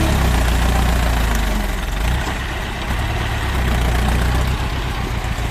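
Heavy Ford 7740 tractor engine roaring close by, loud and rumbling, with the throttle easing briefly midway before building again.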